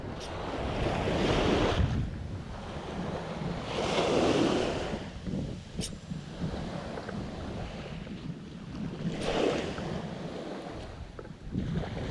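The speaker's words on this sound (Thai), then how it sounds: "น้ำแรงลมแรงครับ" Strong surf surges and breaks in slow swells along a seashore while a gusty wind buffets the microphone, with the sea sounding near and loud throughout and no one talking.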